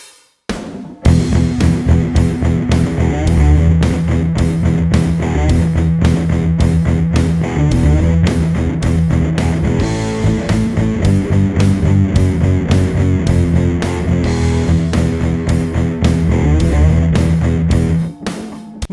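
Heavy, distorted bass riff, with the bass channel switched in through a tuner pedal as the drums enter: loud, driving and continuous, thick low end under steady drums, no talking.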